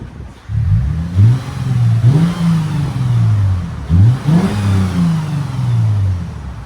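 A 2013 Lexus GS 350 with a 3.5L V6 and LCGP resonators on the exhaust revs twice in quick blips, each rise and fall distinct over a steady, fairly subdued idle drone close by.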